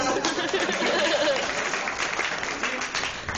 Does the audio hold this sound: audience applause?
yes